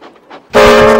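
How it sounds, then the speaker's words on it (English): A cartoon steam engine from a Thomas & Friends episode, a steady loud chuffing and hissing rush with a tonal whistle-like ring, starting abruptly after a brief quiet murmur and holding evenly to the end. "Listen to how James sounds puffing right now"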